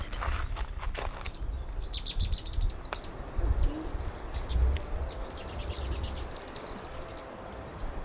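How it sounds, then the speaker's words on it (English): Several birds chirp and trill together against a soft outdoor background, with high, bright calls continuing throughout at moderate distance. "Birdsong just sounds so lovely, and it just makes me smile."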